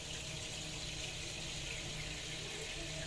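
Water pours steadily into a cooking pot while making lomi, a constant close rushing stream with a faint high whine over it and no voices.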